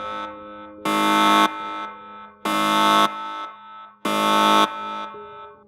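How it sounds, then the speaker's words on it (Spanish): A prison's central alarm sounds three times, each long, loud, harsh buzzing blast separated by short gaps filled with a lower droning tone, close and with no voices. "Era la alarma central de la prisión"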